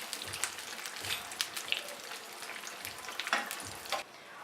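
Eggplant slices frying in hot oil for tempura, a soft crackling sizzle with scattered pops and a few dull taps from utensils, quiet and close, ending abruptly.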